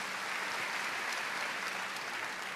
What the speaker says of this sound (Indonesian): Beri tepuk tangan yang meriah buat Tuhan.